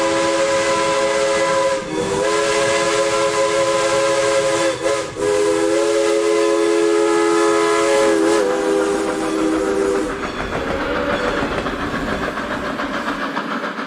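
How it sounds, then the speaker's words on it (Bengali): A steam locomotive at a station at night sounds a long, loud, piercing whistle for about ten seconds, with brief dips in its tone, then hissing steam and rumbling train noise take over. "ইঞ্জিনের তীক্ষ্ণ হুইসেল যেন রাতের নিস্তব্ধতাকে চিরে দিচ্ছে"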